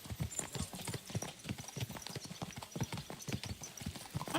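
Horse hooves clip-clopping in the Kingdom Come video game, a quick steady rhythm of close, soft thuds at a trot, continuing evenly with no talking.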